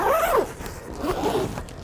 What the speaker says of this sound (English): I like to have a little bit of wiggle room to zip around this corner up here